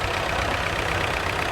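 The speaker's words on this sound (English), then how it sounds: "A Brooke diesel, and it's the only one of its kind in the United Kingdom." A Brooke diesel tractor idles at a tractor rally, giving a steady, even engine rumble with no change in pace over the short stretch.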